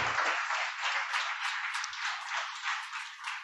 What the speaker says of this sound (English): all 10 teams deserve a big round of applause.